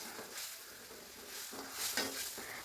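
Spices being sautéed in oil in a cooking pan give a soft, continuous sizzle with faint stirring scrapes that swell briefly near the end, moderately quiet and with no voices.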